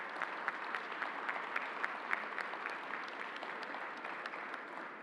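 Steady applause from an audience at a COVID press briefing in New York City, a dense, even patter of many hands clapping continuously at moderate distance with no voices over it.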